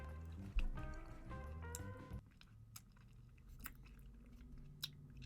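Someone chews a black cherry Warheads sour candy, producing close, wet crunching and smacking bites, loudest early on and then softer intermittent mouth sounds, with no talk.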